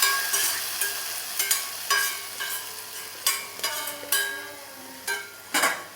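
Roasted cashews and coconut pieces are poured into jackfruit-seed sago payasam in a pot, then stirred in. Repeated scraping and clinking strokes come at an irregular rhythm, close and fairly loud, with no voices.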